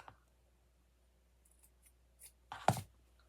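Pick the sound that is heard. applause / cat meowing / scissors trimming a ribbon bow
scissors trimming a ribbon bow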